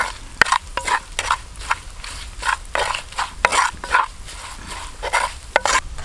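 Coriander powder is stirred into a tender coconut curry in a pan. A spoon scrapes and knocks in repeated strokes, clear and close, over a low sizzle, with no talking.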